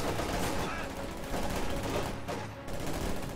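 MG-34 machine gun fire in a World War II multiplayer shooter, dense rapid bursts blending into a continuous loud battle din with other weapons crackling around it.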